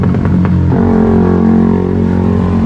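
A motorcycle engine revs hard and close, a few sharp throttle blips at the start settling into a loud, continuous rumbling idle.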